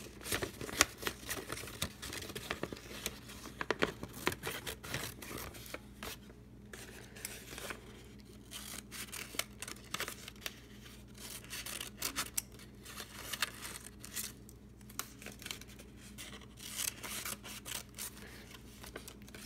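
Paper being cut by hand for a homemade greeting card, with repeated soft snipping and rustling strokes at close range, steady through the whole stretch, with no talking.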